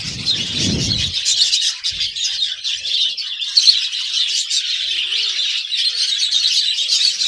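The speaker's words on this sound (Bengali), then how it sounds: "বদ্রি কালেকশানটা তো দারুণ এবং যা দেখতে পাচ্ছি কাকার সমস্ত বদ্রি পাখি খুব হেলদি এবং ভীষণই অ্যাক্টিভ" Budgerigars at a budgie farm make dense, continuous high chirping and twittering from many birds at once, close and lively throughout. A short low rumble comes near the start.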